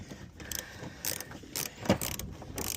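A ratchet clicks in short intermittent bursts while a bolt is removed during a Chevrolet Trailblazer restoration, close but fairly quiet, with faint metallic clinks in between.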